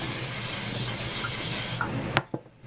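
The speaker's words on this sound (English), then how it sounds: "I'm spraying the bowl" Cooking spray hisses steadily into a bowl during bread making, a close continuous spray lasting nearly two seconds, then a couple of sharp clicks and knocks.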